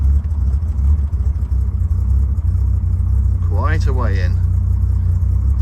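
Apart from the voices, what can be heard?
Triumph Vitesse engine running after starting, choke in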